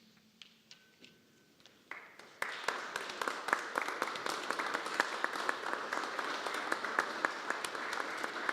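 Audience applause at an awards ceremony honoring teachers during a morning press conference, starting sparse and faint then swelling into steady, fairly distant clapping that continues throughout.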